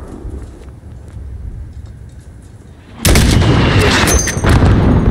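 Enemy mortar team fire in Call of Duty Modern Warfare on the Highway of Death mission, a loud sustained roar of gunfire and blasts that erupts suddenly after a quieter rumbling stretch.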